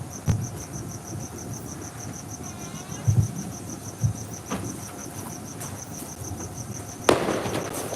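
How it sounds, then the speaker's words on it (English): Fourth of July fireworks pop and thud at varying distances, several separate booms scattered over a steady chirping of crickets on a quiet night. "Oh, there's a lot of fireworks going on all around me."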